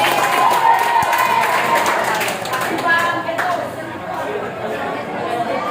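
Clapping from a group audience after a classroom group discussion presentation, steady and sustained, mixed with loud overlapping chatter and talking voices throughout.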